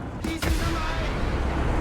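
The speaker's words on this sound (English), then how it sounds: "First missile out." A missile launch in War Thunder bursts out as a sharp, loud crack followed by a sustained roaring rush of motor noise that carries on steadily, close and forceful.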